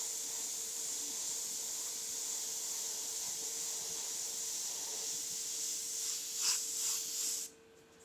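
Spray paint hisses in a steady, continuous stream while a skull is painted freehand, close and fairly quiet, with a few brief bursts near the end before it cuts off.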